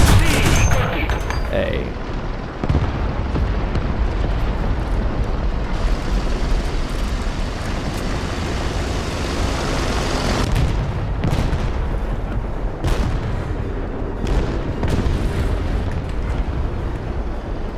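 Tank cannon fire and explosions roar through War Thunder gameplay with an Italian tank. A dense, loud, continuous barrage of booms and blasts stays heavy throughout, and someone talks over it.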